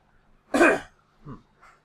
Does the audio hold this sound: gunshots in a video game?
no